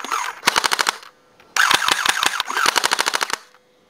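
Two airsoft MP5 guns, a Tokyo Marui and a WELL D95, fire rapid bursts of sharp mechanical clicks close up. A short burst comes first, then after a pause a longer one. There is no talking.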